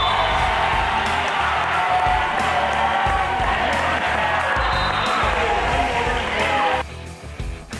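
A crowd cheers and whoops at a CIF volleyball playoff match at the Ron Pucci Pavilion, a loud, dense roar of voices sustained throughout, easing off near the end.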